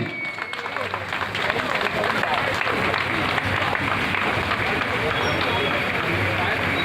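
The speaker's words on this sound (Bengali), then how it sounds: "একটু জোরে করতালি দিন।" An audience at an outdoor police day function claps steadily in a dense, sustained round of applause, with crowd murmur mixed in.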